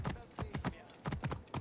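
Horse hooves clip-clop in Assassin's Creed Origins, a quick uneven run of about nine close, crisp hoofbeats in under two seconds, with no speech over them.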